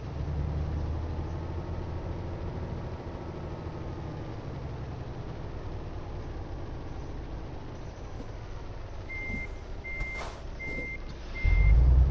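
A truck in Euro Truck Simulator 2 backing up: a steady low engine drone with evenly spaced reversing beeps joining in toward the end, followed by a sudden louder rumble.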